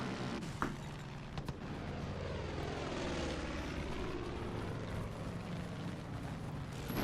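A propeller airplane flying in the video game Far Cry 5, a continuous loud droning engine roar with a rumbling low end, steady throughout with slight shifts in pitch.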